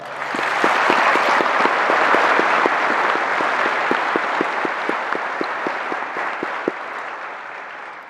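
Sustained applause from a Masonic grand lodge audience fills the room, dense and steady with some sharper individual claps standing out, tapering slightly toward the end.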